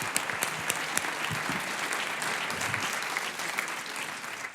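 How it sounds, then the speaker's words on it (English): Steady applause from a conference audience at a culture and art event, a full room of hands clapping continuously for several seconds at an even, fairly loud level with no talk over it. "amazing Sheikha Al Mayassa, Her Excellency, a very big round of applause, a very warm welcome."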